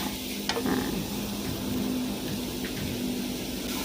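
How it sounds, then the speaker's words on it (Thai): Food stir-fries in a pan with a continuous hiss and low scraping, plus a couple of brief clinks; no voices. Canned tuna and curry paste are being stir-fried. "ใส่ลงไปในกระทะนะคะ แล้วเราก็ ทำการผัดเลยค่ะ"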